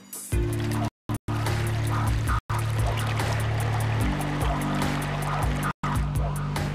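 Floodwater pours into the Brisbane city streets during the 2011 flood, a steady broad rushing wash throughout with a low droning tone under it and a few brief dropouts.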